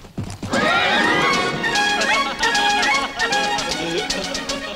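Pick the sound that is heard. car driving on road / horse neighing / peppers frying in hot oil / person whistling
horse neighing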